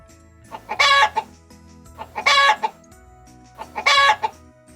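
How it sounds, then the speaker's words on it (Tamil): A hen clucks in three loud, evenly spaced bursts of squawking cackles, close by, with no talking. "கோழி கொக்கரிக்கும்."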